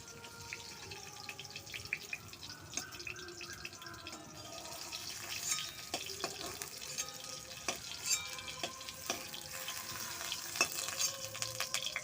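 Oil sizzles and crackles steadily as eggplant fries in a pan, with occasional scraping stirs and sharp pops throughout.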